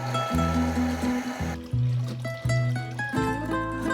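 Water poured into a jar while making homemade kombucha, a close splashing trickle in several short bursts.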